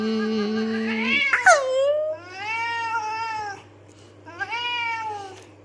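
An angry pet cat meows loudly, with several drawn-out, rising and falling yowls close by and brief pauses between the cries.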